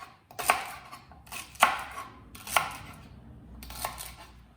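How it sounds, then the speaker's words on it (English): Knife chopping celery on a cutting board for curried celery soup: four spaced bursts of blade strikes, each a quick cluster of crisp cuts against the board, close and fairly loud with quiet gaps between. "I'm just going to cut into the celery there so those bigger end pieces are"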